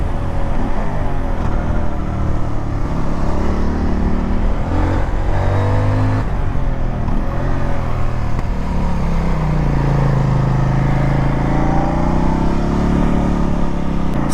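A 2025 CF Moto 800 NK, restricted in power, accelerates in a loud, continuous engine drone that rises and falls in pitch as it works through the gears, heard close up from the rider's position with wind noise.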